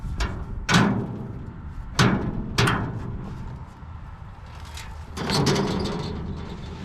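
The metal door on a pig feeder is swung and banged shut several times, giving sharp clanks at irregular intervals followed by a longer rattle, close by with no talk.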